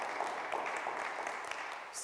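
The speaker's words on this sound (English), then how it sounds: "Give them a hand clap, please." An audience at a school oratorical competition claps for the placed students, a dense, steady wash of applause throughout a short stretch.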